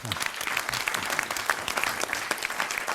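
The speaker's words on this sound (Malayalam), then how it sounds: "മണിയൻ മേശിരിക്ക് നല്ലൊരു കയ്യടി" Audience applause for a Malayalam comedy stage act, dense steady clapping from a crowd lasting throughout, fairly loud and close.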